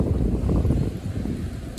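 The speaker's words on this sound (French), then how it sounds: "Il y a un petit peu de vent aujourd'hui, c'est la tempête." Blustery wind blows through an outdoor vegetable garden during garlic planting, low rumbling gusts buffeting the microphone in a loud, uneven wash.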